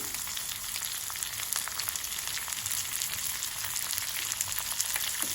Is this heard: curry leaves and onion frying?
yes